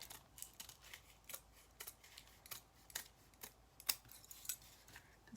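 Scissors snipping through material while making a craft bunny, a quick irregular run of close, crisp little cuts, quiet overall with no voices.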